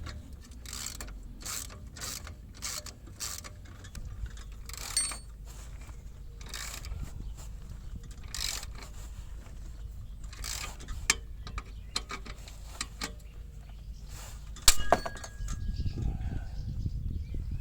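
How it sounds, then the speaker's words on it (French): A ratchet wrench clicks repeatedly while tightening a steel bolt on a BMW E36 exhaust muffler being fitted from a 320i onto a 316i, steady ratcheting strokes ending in a sharp crack as the bolt snaps. "Comme tu viens de le voir, la vis vient de casser."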